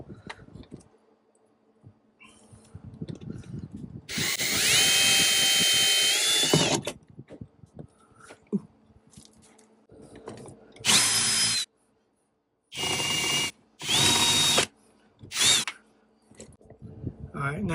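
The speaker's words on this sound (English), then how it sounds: "when you're drilling, don't push really hard on the drill" Power drill boring out the rivets holding a 2019–2022 Toyota RAV4 front door panel: several loud, high whining bursts of a few seconds each, separated by quieter handling noises and pauses, close to the microphone.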